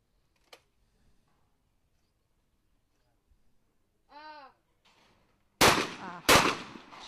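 A women's junior skeet final at the 2014 European Championship in Sarlospuszta: two loud, sharp shotgun blasts fired about 0.7 seconds apart for a reverse pair, preceded by a faint click and a brief tonal call in near silence.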